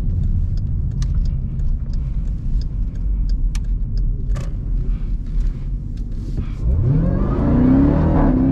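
A Jeep Trackhawk's engine rumbles at a steady idle with faint clicks, then revs up sharply as it accelerates, the rising engine note swelling loud and close toward the end.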